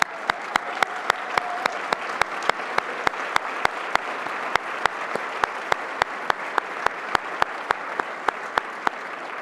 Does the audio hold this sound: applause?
yes